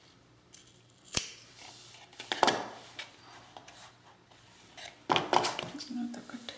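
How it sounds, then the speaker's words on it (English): Scissors snip extra thread while assembling a lavender paper-craft album page: a few sharp, separate clicks close by in a quiet room, with light handling rustle between cuts. "Let me cut this extra thread."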